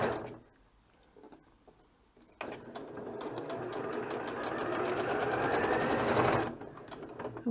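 A home sewing machine stitches a small reusable scrubbing pad, running in one steady, continuous whirring burst of about four seconds after a short pause, close and fairly loud, with faint handling sounds before it starts.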